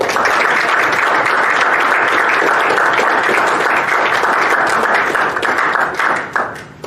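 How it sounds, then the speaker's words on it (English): A large audience at a township board of supervisors meeting breaks into sustained applause for Robin, a dense, loud wash of many hands that holds steady for several seconds before tapering off near the end. "Let's give her a round of applause."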